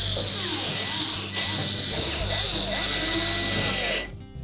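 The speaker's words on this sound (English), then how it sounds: "We'll reinstall the screws at the top to hold it." Power screwdriver whirring steadily and loudly up close as screws go back into the back panel of a GE range, continuous motor drone that cuts off near the end.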